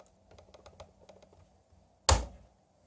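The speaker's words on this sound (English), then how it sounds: "I am hard clicking the keypad. I'm hard clicking it. You can hear the click." Clicks from an HP 14 laptop's touchpad: a quick run of light, close taps followed by one sharp, louder hard click, heard alone in a quiet room.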